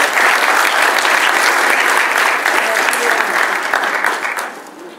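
A crowd at a public event applauds an official who has just been introduced. The clapping is loud and steady, then fades away over the last second.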